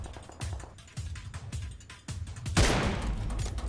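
A string of rapid gunshots rattles at a distance as squads exchange fire in PUBG Mobile, ending in a louder, closer burst that leaves a lingering noisy tail.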